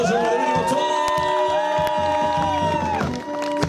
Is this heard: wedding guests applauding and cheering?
yes